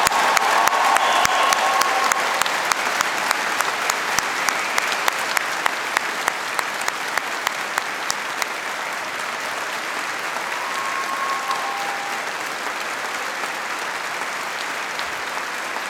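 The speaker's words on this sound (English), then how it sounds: "let's give the class of 2019 a big collective round of applause." Long, steady round of applause for the graduating class at a University of Strathclyde graduation ceremony, a thick hall-wide clapping that stays even and gradually thins slightly toward the end.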